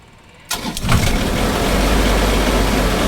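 A Dynasty 45P engine, a 2016 model, cranks briefly after preheating and catches, settling into a loud, steady idle close by with no talking.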